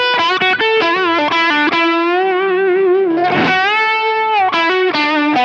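Distorted electric guitar through a Kemper amp profiler with a slight noise gate plays a sustained, singing lead melody with bends and a long held note, loud and upfront.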